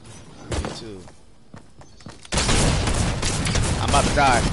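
Bursts of gunfire ring out in the video game Fortnite, first sparse sharp shots, then a loud dense barrage in the second half, with players talking over the action.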